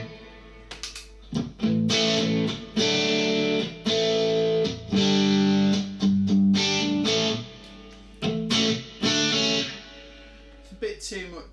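An electric guitar plays through a UAFX Lion amp pedal with heavy reverb, sounding as a series of strummed chords and sustained notes that ring out and decay in washes, with short pauses between phrases.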